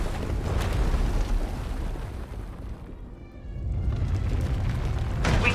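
In the video game SWTOR, a surge of power erupts into an explosion: a heavy, rolling rumble that briefly drops away, then swells back with a deep roar and a sharp burst at the end, with no voices.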